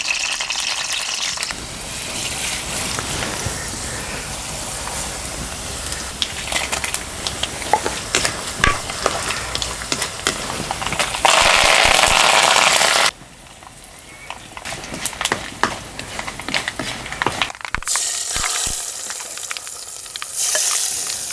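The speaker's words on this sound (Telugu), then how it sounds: "ఇప్పుడు టమాటా పప్పుకి రసానికి కలిపి ఒకటే తాలింపేసి" A tempering for tomato dal and rasam sizzles loudly in hot oil, crackling and spitting with stirring clatter, then drops abruptly quieter before bursts of frying resume near the end.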